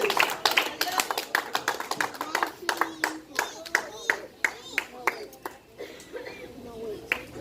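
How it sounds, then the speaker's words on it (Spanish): Church congregation clapping in a loose, uneven rhythm, individual hand claps distinct and fairly close, with scattered voices underneath. "Póngase de pie, denle un aplauso a Cristo."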